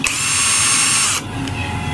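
A repaired cordless drill spins up close by with a high steady whine for about a second, then cuts off, followed by a brief second short burst.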